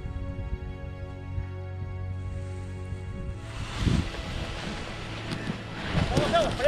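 Wind rushes past during a paragliding launch and flight, a steady broadband rumble that buffets the microphone and swells in stronger gusts toward the end.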